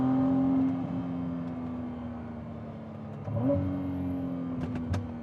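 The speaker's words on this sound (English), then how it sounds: "You can hear that sound of the turbo spool up." Ferrari 296 GTB driven on public roads, its turbocharged engine building and rising in pitch, easing off, then climbing again, heard from inside the cabin at moderate volume with no talking.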